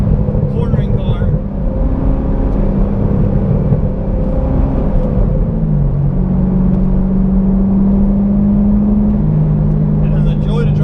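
A Chevrolet C6 Corvette holds a steady loud engine drone and road rumble while driving at speed, its pitch shifting slightly as the revs change partway through, with no pause in the noise.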